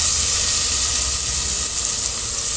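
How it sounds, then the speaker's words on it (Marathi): Paste of ground garlic and red chili powder hitting hot oil and frying with a loud, continuous hissing sizzle that stays steady throughout, with no voices. "हे लसणाचं तिखट केलं आहे लसूण पाच सहा लसणाचे पाकळ्या आणि तिखट लाल तिखट टाकून बारीक केलं आहे ते टाकणार"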